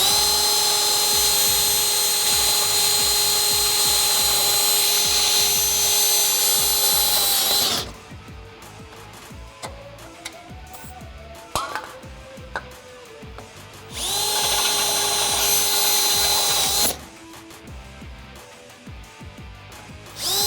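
A power drill bores holes in steel for a Smittybilt XRC rear bumper on a Jeep Wrangler YJ/TJ, whining loudly for two sustained bursts of several seconds with a quieter gap of handling noise between them.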